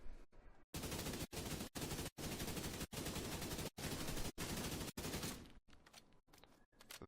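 FAL rifle in The Division 2 fires full-auto in long sustained bursts broken by brief pauses, loud and close, then trails off into scattered shots and quieter game sounds near the end.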